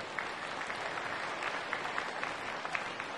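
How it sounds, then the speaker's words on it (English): An audience at a hurricane preparedness workshop applauds its elected officials and emergency managers, a moderate, even patter of many hands that holds steady for a few seconds. "Let's give them a round of applause as well."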